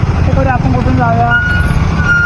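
Garbage truck on a street in Ghansoli backing up, its reversing alarm sounding a few rapid electronic beeps close by over the low rumble of the engine.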